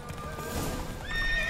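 Galloping horses in a horse race in the video game The Witcher 3: rapid hoofbeats drum close by, with a horse's neigh rising near the end of the short burst.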